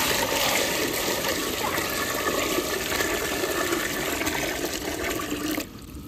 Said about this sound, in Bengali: এটা ভাত বসাবো তো জলটা দিয়ে দেবো